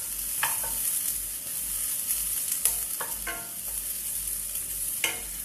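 Oil heats and sizzles in a pan before fish is fried, a constant close hiss broken by several sharp clinks and scrapes of a utensil at irregular moments.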